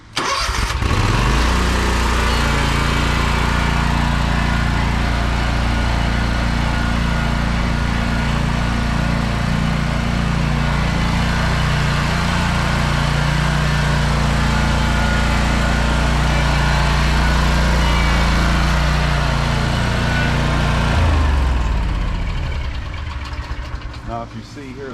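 A riding lawn mower's engine runs steadily and loud close by throughout while the mower turns in, backs up and pulls out, the drone dropping off near the end; someone talks over it.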